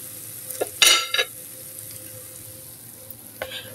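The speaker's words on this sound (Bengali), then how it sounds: "এই জন্য আমি এভাবে পাকুড়াগুলি ভেজে নিচ্ছি" Radish pakoras fry in hot oil, a soft continuous sizzle under a few sharp scraping and clinking bursts from stirring utensils against the pan.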